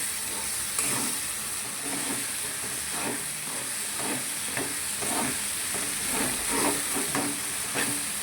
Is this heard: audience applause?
no